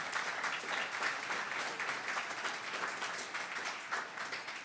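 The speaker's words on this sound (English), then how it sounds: "Please, a round of applause for them." Steady audience applause at a graduation ceremony, a dense wash of many hands clapping evenly for guests and presenters, moderately loud and unbroken throughout.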